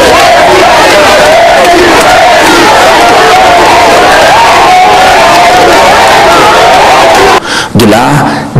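A crowd in the Anta neighbourhood cheers the president of the Republic with a loud, continuous roar of shouting voices that drops away briefly near the end.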